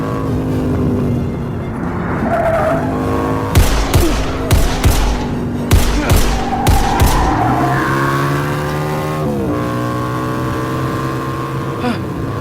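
A video game car revs hard while overtaking, with a cluster of sharp bangs and skidding bursts in the middle, loud and close over a constant engine drone.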